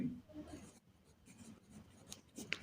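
A pen scratches across paper while a solution is written out by hand, soft and close, with short strokes under a man's speech.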